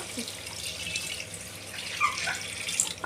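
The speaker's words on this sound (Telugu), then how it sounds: "ఇప్పుడు వాటర్ అనేది యాడ్ చేస్తాను." Water pours steadily into a pot of mutton curry being cooked at home, a broad splashing rush that runs for about three seconds with a few brighter splashes near the end.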